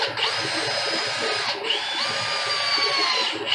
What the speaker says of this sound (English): back to Jake drilling a hole.